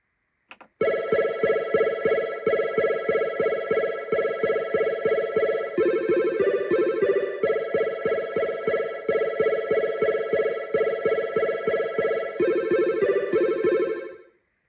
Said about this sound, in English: I found one called Atari Arpeggio, which sounds like this